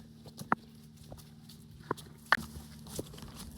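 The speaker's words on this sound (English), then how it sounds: "If I let Javelin go, she's gonna run like crazy." Horse hooves clopping slowly across a paddock, several separate sharp knocks spread out over a steady low background hum.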